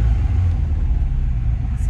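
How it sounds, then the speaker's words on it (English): A manual stick-shift car's engine rumbles low and steady, close and loud inside the cabin, as the car comes out of a turn, with voices over it. "You're driving a stick shift car, and now release off the clutch as you're coming out through the turn."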